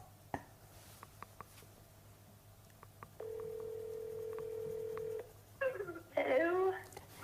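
An iPhone places a call that rings out as a steady electronic tone for about two seconds after a few faint clicks, followed by voices talking.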